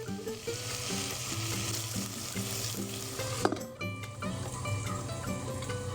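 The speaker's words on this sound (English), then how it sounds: "Keep mixing with a spoon so they don't stick too much." Bone-in chicken wings sizzle and fry steadily in a cooker for chicken soup, with a spoon scraping and stirring them now and then, including one sharper clink near the middle; no one speaks.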